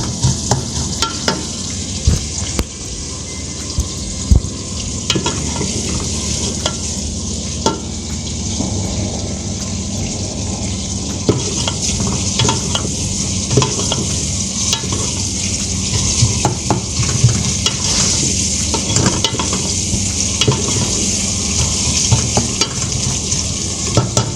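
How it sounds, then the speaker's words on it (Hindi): Steady, continuous sizzling of spices frying in hot oil in a pot while cooking goat trotters (paya), with occasional stirring scrapes and pops throughout, close and fairly loud with no talking. "बस थोड़ा सा भून के मसाले डालते हैं इसमें।"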